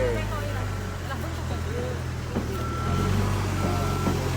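A truck idles and rumbles nearby, and a steady electronic reversing tone sounds over it in the second half. Background voices murmur faintly throughout.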